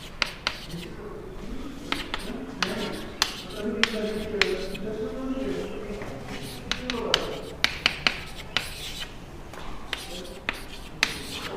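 Marker or chalk scraping and tapping on a classroom board during a genetics lesson, a run of short strokes and sharp taps at close range, with a teacher's voice murmuring underneath.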